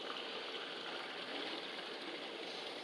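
Water poured from a measuring cup into a pan of rice while making red rice, a steady soft rushing pour, close and fairly quiet, without talk.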